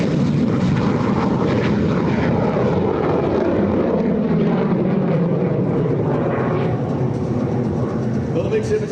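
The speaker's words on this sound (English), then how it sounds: "The MiG-17 is a high subsonic fighter produced by the Soviet Union." A Soviet MiG-17 jet fighter flies at an air show, a loud sustained jet roar rumbling steadily throughout, while an announcer talks over it.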